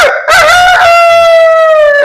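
A voice imitating a rooster's crow, one loud, drawn-out cock-a-doodle-doo call held steady to the end, close and alone.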